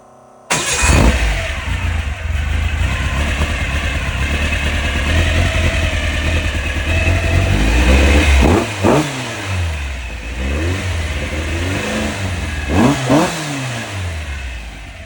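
A VW air-cooled 2110 cc engine with IDA carburetors and an A1 exhaust starts and then revs repeatedly, rising and falling in pitch with a rough, buzzy exhaust note, loud and close.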